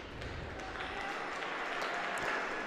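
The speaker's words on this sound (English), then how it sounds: "And you can hear the applause from the crowd." Crowd applause at a women's curling match, a moderate ripple of clapping with scattered sharper claps and faint voices in the arena.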